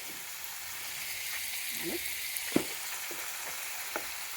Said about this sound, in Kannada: ನೀಟಾಗಿ ಫ್ರೈ ಆಗುತ್ತೆ.